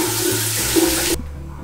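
Shower water runs steadily as a continuous broadband hiss, loud and close, then cuts off abruptly near the end, leaving a quiet room tone.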